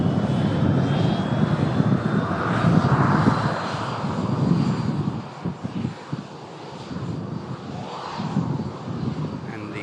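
Virgin Atlantic Airbus A330 airliner engines produce a steady, loud, broadband roar that swells and eases slightly over about ten seconds, heard close and continuous without speech.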